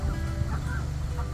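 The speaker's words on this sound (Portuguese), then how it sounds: "É muito ganso, meu Deus." A flock of geese honks continuously against a steady wind rumble, the calls overlapping at a moderate distance.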